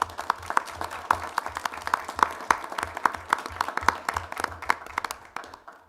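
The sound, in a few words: council meeting attendees applauding officer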